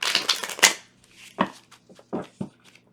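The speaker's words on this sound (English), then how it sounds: "shuffle it 3 times in a row" Tarot cards being shuffled close up in a few quick riffling bursts with short pauses between, crisp and papery, no talking.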